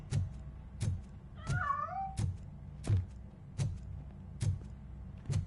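A single drawn-out cat meow rises partway through, set against a regular series of sharp thumping taps repeating about every second, in the video game Robocop: Rogue City.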